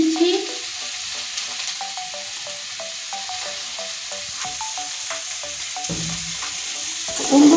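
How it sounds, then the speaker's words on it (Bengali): Fish curry with papaya, potato and salt being stirred in a pan, a steady close frying sizzle throughout with faint rhythmic utensil scrapes and clicks, and no voices. "সুন্দর করে এবার নেড়ে দেব।"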